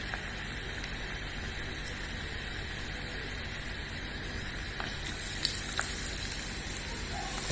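Garlic frying in oil in a tiny miniature cooking pan, a steady close sizzle and crackle that holds throughout, with a few small pops near the end.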